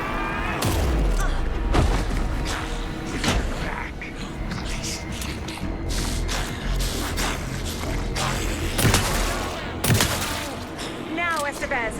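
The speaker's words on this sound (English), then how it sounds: "Anderson, pin him down with gunfire for me to get the light on him." Gunfire in the video game Alan Wake 2 crackles in repeated sharp bursts and booms throughout, loud and close, mixed with game sound effects and shouting voices.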